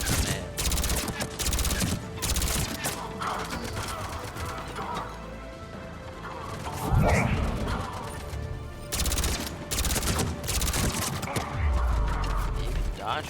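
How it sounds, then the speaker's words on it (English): Grenade blasts and gunfire in a Mass Effect 3 firefight against Cerberus on Mars, dense and loud, with repeated explosive bursts and a heavier boom midway, under steady game noise and faint voices. "Watch out for those grenades."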